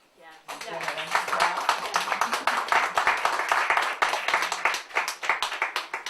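Many hands clap in sustained applause, dense and continuous, with a voice faintly audible beneath.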